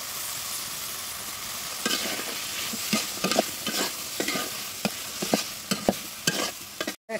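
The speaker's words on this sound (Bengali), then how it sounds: "কত সুন্দর করে আমি কষাচ্ছি আলু চিংড়ি" Potatoes and shrimp are stir-fried in a pan, with a constant sizzle underneath repeated scraping strokes of a spatula coming in irregular, close, fairly loud bursts, and no speech.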